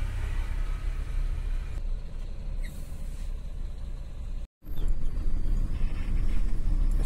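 Road traffic on a long highway trip from Mangalore to Kolkata rumbles as stalled vehicles start moving, engines droning steadily with a short silent gap before the noise resumes, louder.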